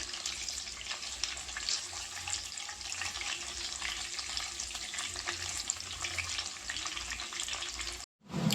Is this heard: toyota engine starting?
no